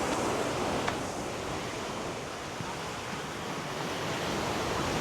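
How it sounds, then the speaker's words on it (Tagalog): Strong seaside wind buffets the microphone on a rocky island shore, with a steady broadband roar that also carries surf. It sounds loud and close and continues without a break. "Lakas ng hangin."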